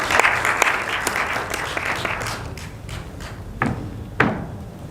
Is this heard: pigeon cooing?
no